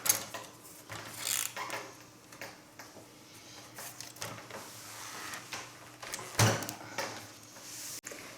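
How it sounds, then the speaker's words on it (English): A Passap E6000 knitting machine is being turned over during cleaning and reassembly, producing scattered wooden and plastic knocks, shuffles and clunks with one sharper bump near the end, all fairly close and quiet. "now they're all loosened up, so I can turn this machine over"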